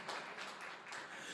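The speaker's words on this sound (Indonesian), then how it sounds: "Tepuk tangan yang meriah untuk kemuliaan Tuhan." Church congregation applauding during a sermon, a dense wash of many hands clapping together, steady and moderately loud throughout the short burst.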